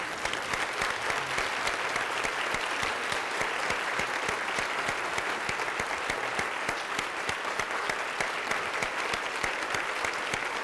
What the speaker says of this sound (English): let's stand and give those people and their families a round of applause.